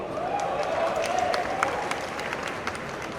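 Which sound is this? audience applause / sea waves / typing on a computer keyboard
audience applause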